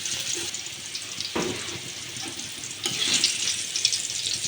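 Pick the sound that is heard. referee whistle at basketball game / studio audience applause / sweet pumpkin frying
sweet pumpkin frying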